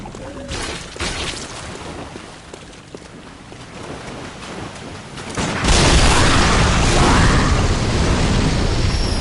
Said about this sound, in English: we'll see if we can get them into this pit where we can detonate this and kill them